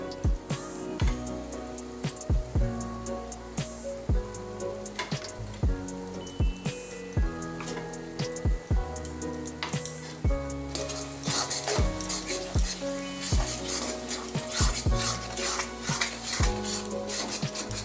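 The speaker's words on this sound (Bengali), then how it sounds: "এবার এই মশলাটা দিচ্ছি কাঁচা লঙ্কা নারকোল আর কাজু বাটা" Green chilli, coconut and cashew paste going into a hot pan for chital fish kalia, with repeated sharp metal clanks and scrapes of a spoon over a bright sizzle throughout.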